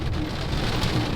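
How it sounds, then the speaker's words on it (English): A rainstorm at a trailhead pours down in a dense, steady hiss of rain on surfaces, loud and continuous over the short stretch. "I'm carrying a rig off the trail in a rainstorm, and I'm dry."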